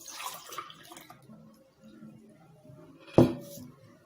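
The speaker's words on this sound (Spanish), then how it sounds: "En el primer recipiente colocaremos una taza llena de agua." A full cup of water is poured into a container, giving a short, close splash near the end after a stretch of quiet indoor background sounds.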